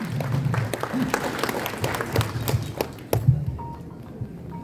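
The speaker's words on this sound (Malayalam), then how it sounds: "നല്ലൊരു കയ്യടിയൊക്കെ ആകാം" Audience applause rings out at a stage event as a guest is welcomed to speak, with dense, steady clapping from a crowd lasting several seconds and easing toward the end.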